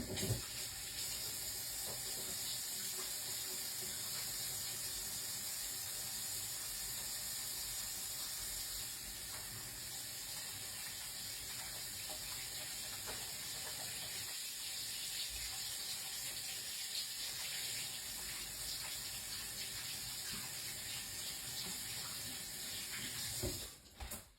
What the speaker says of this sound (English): And then I got to wash my hands again because I've done already touched the floor.